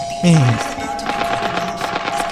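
Rapid automatic gunfire in the shooter game Arena Breakout, a dense rattling burst of shots close up, with a voice talking over it.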